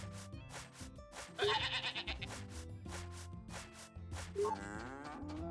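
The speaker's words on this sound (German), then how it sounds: "Die Ziege sieht wach aus." Farm animal calls from Story of Seasons: A Wonderful Life, a goat's bleat sounding twice in short bursts over upbeat background game music.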